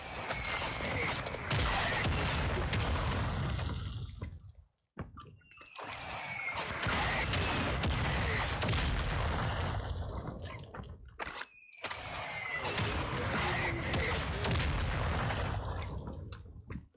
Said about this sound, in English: Friendly mortar down.